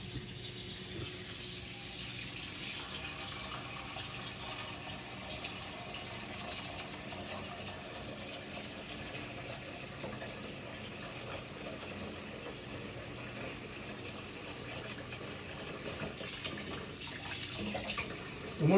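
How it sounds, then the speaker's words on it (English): Soap-making equipment rinsed under a running tap, a steady close rush of water splashing into a sink throughout, with faint clinks of handling and no speech. "Let's just rinse this off real quick."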